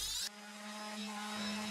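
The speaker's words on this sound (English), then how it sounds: "So here I am sanding the blocks down." Wooden blocks for an acoustic diffuser are being sanded with a power tool, giving a steady, fairly quiet whirring hum that holds an even pitch for the whole stretch, with no talking.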